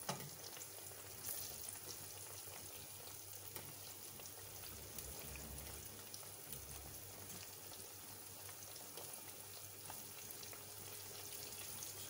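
Eggplant frying in oil, a steady low crackling sizzle that runs faint and even throughout with no talk.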